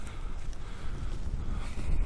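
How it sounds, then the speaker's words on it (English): Steady wind buffets the microphone with a low, rumbling roar that surges and fades, loud and close throughout. "It's pretty windy."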